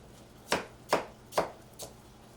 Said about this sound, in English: We're gonna cut out the onions.